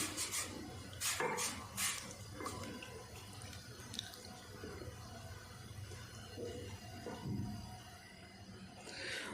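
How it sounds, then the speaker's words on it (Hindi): A spoon scrapes steadily around a pot as rice paste is stirred into hot, not-yet-boiling milk for badami firni, producing soft, repeated rubbing and scraping strokes at low volume. "हम इसमें चावल वाला पेस्ट डाल देंगे और मुसलसल चम्मच चलाते जाएंगे"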